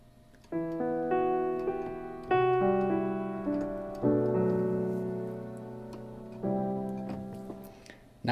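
A short piece of music played through Quantum Leap Spaces reverb: sustained chords entering in separate blocks, each struck firmly and then decaying with a lush, roomy tail, a faint ticking underneath, no voices.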